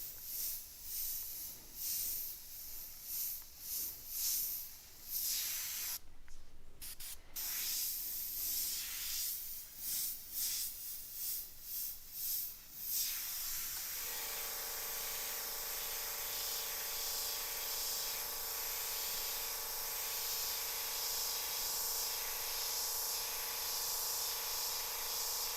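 An airbrush sprays thick paint at high pressure onto a T-shirt, first in short irregular bursts of hiss and then as one long unbroken spray, loud and close with no talking.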